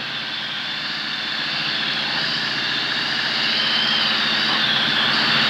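Steady broadband drone of a light propeller aircraft's engine on final approach to a field, continuous and fairly loud throughout, rising slightly in level toward the end, with wind rush and no talk.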